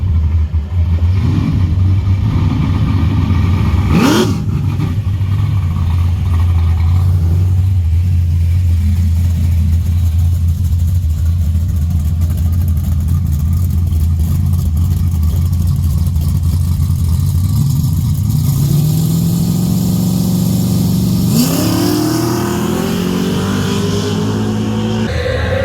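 A modified aspirated drag race car, its engine droning loudly and steadily at a low pitch for a long stretch, then climbing in pitch as it revs up near the end, with no talk.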